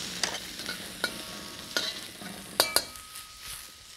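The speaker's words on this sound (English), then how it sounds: "when you stir fry, don't just stand there and stare" Black rice stuffing with Chinese sausage, mushroom, green onion and chestnut is stir-fried in a hot pan, with soft sizzling broken by several sharp spatula scrapes and clacks at uneven intervals, fairly quiet and close.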